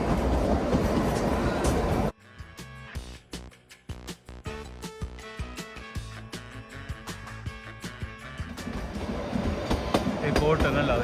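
The Shimla toy train rolls along mountain tracks, its wheels clicking and clattering in an irregular rhythm. The sound is steady and close, with wind noise rising at the start and end and a voice speaking at times.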